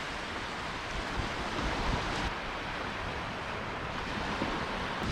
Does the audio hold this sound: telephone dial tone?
no